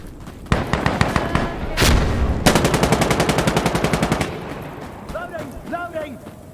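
Gunfire in the video game Insurgency: Sandstorm, a few loud single shots followed by a long rapid automatic burst, close and dominant, with a voice talking briefly near the end.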